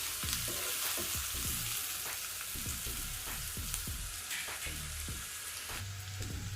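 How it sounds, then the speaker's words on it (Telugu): Mushrooms frying in an open pan, a continuous bright sizzle with repeated clinks and scrapes of a spatula stirring them at an uneven rhythm, close and loud. "మూత పెట్టాల్సిన అవసరం లేకుండా ఇలాగే 1 నిమిషం పాటు వేయించుకుందాము"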